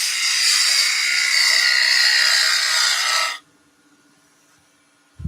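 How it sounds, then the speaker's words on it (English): A wooden hanging bauble spins on a lathe while a spindle gouge cuts it in one loud, continuous rushing scrape, ending abruptly about two-thirds through and leaving near silence. "You can use a spindle gouge to do this"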